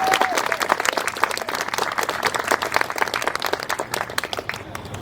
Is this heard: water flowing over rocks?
no